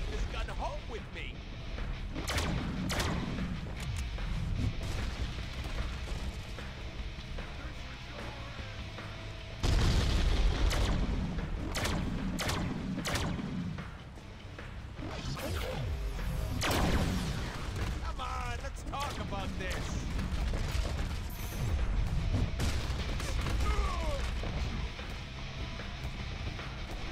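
Gunfire and explosions rattle through a Deadpool video game battle against a clone army, repeated bursts and booms running the whole time beneath ongoing talk.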